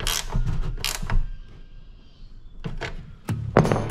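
Wrench snugging a bolt on a Kinze 2200 planter, heard as short creaking and ratcheting clicks in a few separate bursts, close and moderately quiet with pauses between.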